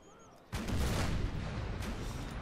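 Artillery guns, howitzers, fire in a Civil War strategy game (Empire ACW mod), a sudden loud boom followed by a long rumbling roar of distant cannon fire.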